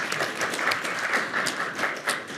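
Brief, moderate clapping from a small audience at a leadership discussion, a light patter of hands that continues evenly for a couple of seconds.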